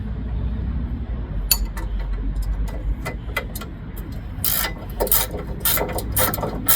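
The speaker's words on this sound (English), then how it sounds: "you're going to go ahead and tighten up your ones that secure the bar in" A ratchet wrench clicks in quick repeated bursts while tightening the bolts that secure a tow bar, with metallic clinks and scrapes close by over a low background rumble.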